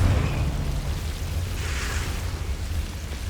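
Confringo fire spell blast in the video game Hogwarts Legacy, a loud, dense explosive rumble that holds steadily for a few seconds with a brighter burst near the middle, with no speech.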